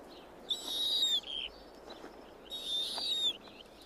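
Owls in a snowy winter landscape hoot twice in drawn, wavering high-pitched calls about two seconds apart, fairly faint against a quiet background.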